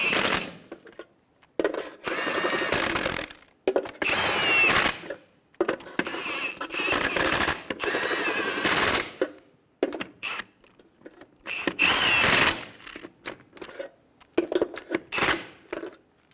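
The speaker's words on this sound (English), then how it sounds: "Snug down the lug nuts." Lug nuts are run down onto a wheel of a 2005-2015 Toyota Tacoma in loud rapid bursts of mechanical rattling, each lasting a second or two and separated by short silences, with no one speaking.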